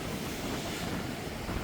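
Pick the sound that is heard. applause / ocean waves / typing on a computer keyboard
ocean waves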